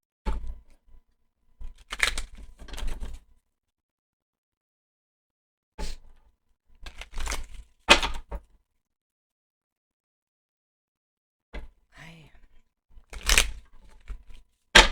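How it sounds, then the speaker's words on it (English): Tarot cards being shuffled in several short bursts, close by, separated by quiet pauses. "I'm going to shuffle again."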